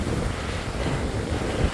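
Ocean waves wash over bare feet at the edge of a beach at dusk, a steady close rush of surf mixed with wind buffeting the microphone, no voices.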